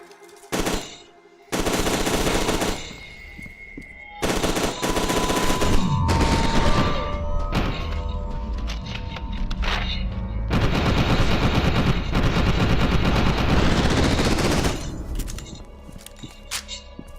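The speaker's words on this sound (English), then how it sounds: "This SMG is not accurate at all." Submachine gun fire in the shooter game F.E.A.R. 2: Project Origin, loud sustained automatic bursts with brief gaps, a short pause near the start, then long continuous rattling volleys with metallic clinks, no talk.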